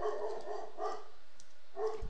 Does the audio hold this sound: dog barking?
yes